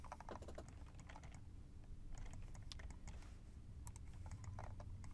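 Keys clatter on a computer keyboard while a value is typed into Fusion 360 CAD software, with quick irregular bursts of clicks spread across the moment, close and fairly quiet, with no talking.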